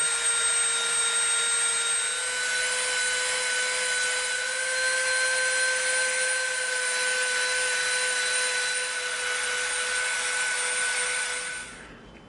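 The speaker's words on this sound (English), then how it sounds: "So we're going to Dremel from this line up to the center, so it's going to be a bevel" A Dremel rotary tool grinds a bevel into EVA foam for a prop blaster blade, a steady high whine running continuously and close for about twelve seconds before cutting off at the end.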